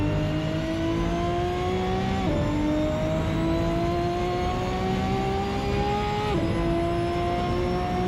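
A Ferrari in the racing game Assetto Corsa drones with a high, jet-like whistling whine. It climbs steadily, dips briefly at two gear shifts and keeps rising, loud and close with no voices.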